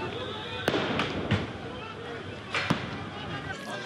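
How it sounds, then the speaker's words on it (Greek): Stun grenades fired by riot police during clashes with a crowd in Komotini, Greece, heard as several sharp bangs over a noisy crowd, with people talking. "Οι αστυνομικοί με τη σειρά τους χρησιμοποιούν χημικά και βομβίδες κρότου λάμψης"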